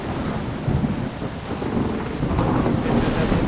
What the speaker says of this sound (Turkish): İşte yağmur başladı.